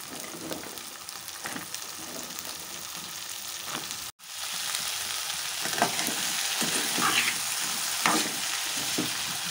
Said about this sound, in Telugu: ఉల్లిపాయలు ఫ్రై అయినాయి కదా, చిక్కుడుకాయలు వేసుకుందాం.